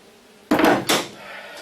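Two solid whacks from a dead blow hammer land close together as bumper parts are driven into a 2002 Chevy 2500HD rear step bumper. The blows are near and sharp, then fade to quiet.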